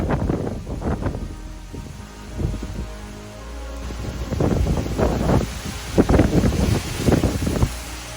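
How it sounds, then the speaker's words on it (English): Strong wind gusts from Hurricane Milton in Tampa Bay, Florida, roaring and buffeting in surges against the microphone, with rustling and rumble building louder toward the end. "Big gust coming through right now."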